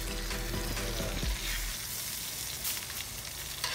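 Chicken breast sizzling steadily on a charcoal grill, a close, continuous frying hiss with a brief clunk near the start.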